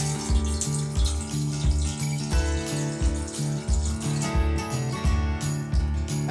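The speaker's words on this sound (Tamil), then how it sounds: "மாங்காய் வேகிறதுக்கு தேவையான அளவு தண்ணி ஊற்றிக்கலாம்." Water poured from a vessel into a cooking pot for boiling mango pieces in a Tamil home kitchen, a steady splashing pour, close and moderately loud, running through the whole stretch with faint background tones and no talk.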